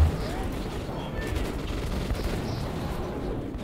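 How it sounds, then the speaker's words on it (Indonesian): Gunfire in Metro 2033 Redux, heard as a steady, dense crackle of shots under a continuous rumbling bed, fairly loud throughout. "Gua nembak yang halangin jalan aja."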